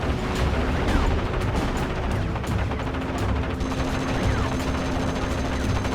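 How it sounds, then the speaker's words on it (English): Rapid machine gun fire from a World War II battle in Steel Division Normandy 44, dense bursts mixed with distant booms and battlefield clatter running continuously at steady loudness. "Unload that machine gun."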